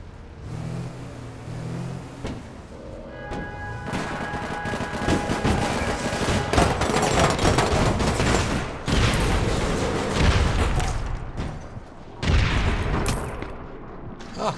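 Rapid bursts of automatic gunfire in the online shooter APB Reloaded, loud and sustained with overlapping volleys and heavy booms, continuing almost without pause through a chaotic firefight.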